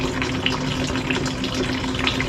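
Water drains steadily out of a small water heater in an attic, a constant close rushing flow with faint gurgling, no pauses and no talking.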